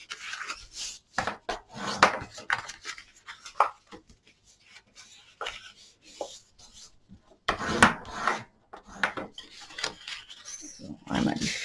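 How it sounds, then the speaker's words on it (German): Paper edges being creased and folded by hand to make a pop-up matchbox, giving close, dry rubbing and rasping swipes in irregular bursts with pauses between them. "dafür falze ich jetzt einmal alle Kanten"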